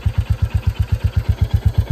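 A 2024 Royal Enfield Bullet 350 engine runs close by with a loud, even thump-thump beat at about eight pulses per second, heard alone.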